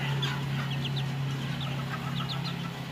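A white hackle cross brown red gamefowl rooster clucks in short repeated calls over a steady low hum, with no voices.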